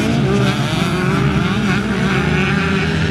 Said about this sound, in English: it is certainly nice to hear the 2-stroke engines out there